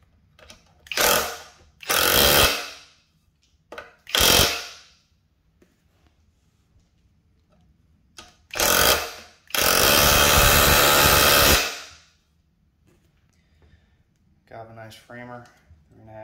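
A Skil auto hammer drives a 3.5-inch galvanized roofing nail, giving several short loud bursts of hammering and then a sustained rattling stretch, with quieter pauses between them and brief speech near the end.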